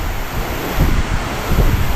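Strong wind buffets at Balagbag Beach, a loud, continuous roar close to the microphone that surges twice, with the rush of surf blended underneath.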